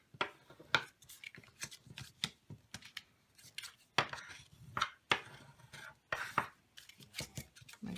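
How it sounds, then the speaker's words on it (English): Paper box flaps being creased and folded with a bone folder, heard as close, irregular crisp taps and rustles in quick bursts, with no voices. "get out your bone folder and just start folding the big flaps"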